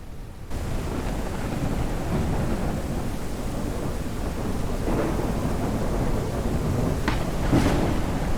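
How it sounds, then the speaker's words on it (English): Rain and thunder in the video game Dear Deer Journey: a steady, dense downpour with deep rolling thunder and a few sharper cracks late on, loud and continuous without voices. "There's a moment of weather where the rain takes over and it's actually a great buildup of sounds and lighting and some effects"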